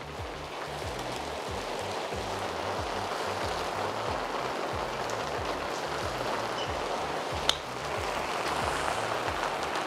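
Steady rain falling on an outdoor golf course, a dense continuous hiss that fills the whole clip at even strength, with a brief sharp tick near the end and no speech.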